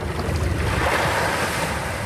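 Sea waves wash around a ruined church in a former fishing village in northern Vietnam, a steady broad roar of surf mixed with gusting wind buffeting the microphone, with no voices.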